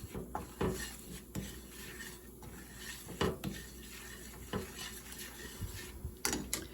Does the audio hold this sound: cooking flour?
yes